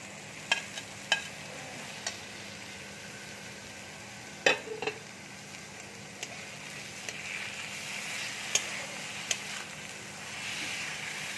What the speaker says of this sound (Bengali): এবার আমি খুব ভালো করে ভেজে নেব।